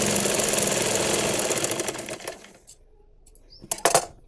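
A sewing machine stitching the front part of a blouse runs steadily and close for about two seconds, then stops, leaving near silence broken by a few handling clicks and knocks.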